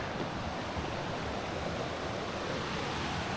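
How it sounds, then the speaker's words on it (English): A mountain creek in the Pecos Wilderness rushes steadily, a close, even wash of flowing water with no pauses and no voices. "That's a different creek coming down that way."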